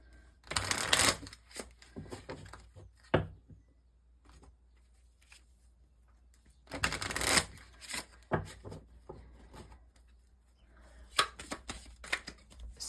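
Tarot cards being shuffled in several separate bursts of riffling and slapping, with quiet pauses between each round.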